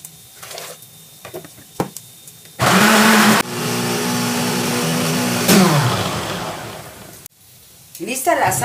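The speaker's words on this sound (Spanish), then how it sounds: "vamos a licuar los ingredientes que ya habíamos mencionado" A blender whirs through salsa ingredients in a bursting, loud motor drone that shifts pitch as it runs, set between quieter kitchen sounds and a voice speaking before and after.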